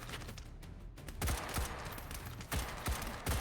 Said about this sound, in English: Oh, getting shot to bits.